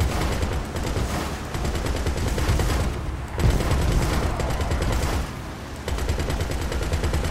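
Sustained automatic fire from a vehicle-mounted gun in GTA 5 Online's Target Assault mode, a dense continuous rattle of rapid shots with brief pauses, loud and close throughout.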